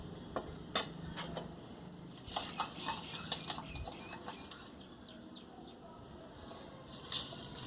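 A spoon clinks and scrapes in a bowl as a spiced tempering is stirred into a yogurt pickle in a home kitchen. The taps are faint and sparse, with a few sharper ticks spread over a quiet background.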